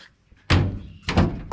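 A car door on a 1936 Oldsmobile with suicide doors shuts in two heavy, close thunks about half a second apart, with no voices.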